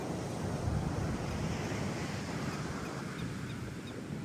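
Ocean waves break at the shore in a steady, rushing roar, mixed with gusty wind buffeting the microphone; there is no talk.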